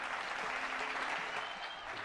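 Dense applause from a large crowd at a foundation stone ceremony for the Ganga Expressway in Shahjahanpur, Uttar Pradesh, steady and loud throughout.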